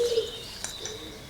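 Garden birds calling near a feeding station stocked with seed and mealworms, with soft cooing and a few faint chirps over a steady background hiss.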